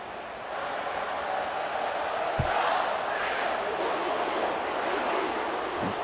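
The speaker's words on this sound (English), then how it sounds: "You can hear the dog barks from the crowd." A large stadium crowd in the video game College Football 25, at a Georgia vs Alabama SEC Championship game, roars steadily from a distance, a broad wash of cheering with brief low thumps, no distinct barks standing out.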